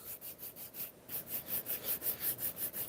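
Leather is sanded by hand with 800 grit sandpaper, a faint, soft rhythmic rubbing of quick regular strokes back and forth.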